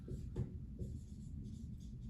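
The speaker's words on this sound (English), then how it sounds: "I'm gonna write down here" A pen writes on paper in short scratchy strokes, close and quiet, with a few louder bursts and pauses between them.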